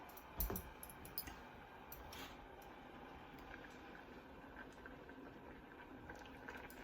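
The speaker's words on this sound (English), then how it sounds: "those beets are bubbling in that concoction" A pot of beets bubbling at a steady boil, soft continuous gurgling with a few sharper pops and clicks, close and fairly quiet.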